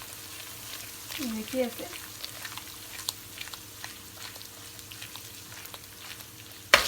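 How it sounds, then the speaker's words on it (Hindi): A turmeric and red chilli spice masala fries on high heat for bagara baingan, giving a soft, steady sizzle. A voice speaks briefly early on, and a sharp clank sounds at the very end. "ये डाल के तो हमने मसाले को अच्छी तरह भूनना है। अभी हाई हीट पे रख के"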